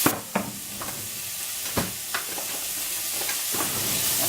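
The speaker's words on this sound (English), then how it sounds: "I'm just going to put these in the pan so they can sweat off" Onions and carrots hit hot oil in a pan for mung bean stew, giving a steady broad sizzle with a few sharp crackling pops and clatters near the start, holding evenly without talk.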